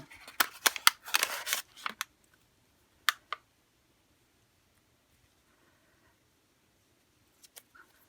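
Crinkling, tearing plastic packaging as a roll of washi tape is opened, a dense burst of rustles and rips followed by a few sharp clicks, then quiet with faint handling at the end.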